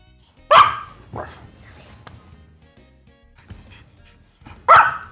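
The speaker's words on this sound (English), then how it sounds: "He just yells at anyone says anything in the hall, he just starts yelling" A guard dog in a hotel room barks sharply at voices in the hall: two loud close barks several seconds apart, with softer yips and quiet room noise between them.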